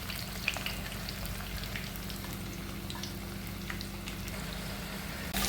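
Cauliflower frying in oil for gobi manchurian, a soft, steady sizzle with scattered crackles over a low kitchen hum, fairly quiet and without speech.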